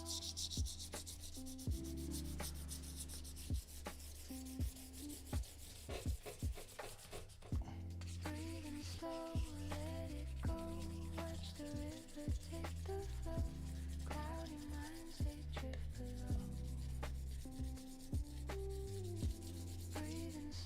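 Guitar frets are sanded by hand with fine 2000 grit sandpaper in steady, soft back-and-forth rubbing strokes, close and quiet, with faint background music throughout.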